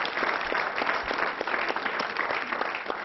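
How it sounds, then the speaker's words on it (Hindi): A crowd at a kavi sammelan poetry gathering claps for a poet. Continuous, close applause stays dense and steady from start to end. "जोरदार तालियां नीर गोरखपुरी जी के लिए।"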